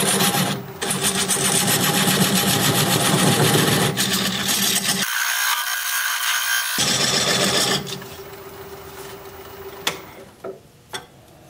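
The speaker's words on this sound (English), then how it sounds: "Now I'm going to use this diamond point tool to square up the sides of my tenon." A wood lathe turns a tenon on a spalted wood vase while a diamond point tool squares its sides. A loud, steady whirring scrape runs for several seconds, then dies away, leaving a few separate knocks.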